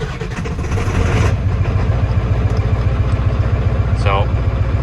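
A Ford OBS 7.3 diesel with a new starter cranks over fast on a cold 25-degree day. A steady, loud, low mechanical churning runs throughout with a rhythmic pulse, and a brief higher whine sounds near the end.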